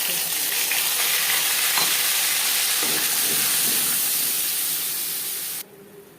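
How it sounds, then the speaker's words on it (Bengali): Panch phoron spice mix and bay leaves frying in hot oil for stuffed potato curry, a steady close hissing sizzle that holds for about five seconds, then abruptly drops away to quiet. "পাঁচ ফোড়ন তেজপাতা ভেজে নেওয়ার পর দিয়ে দেবো মশলা"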